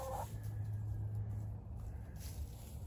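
Chickens cluck faintly and intermittently in the background as they scratch and peck, with a low hum and light outdoor noise.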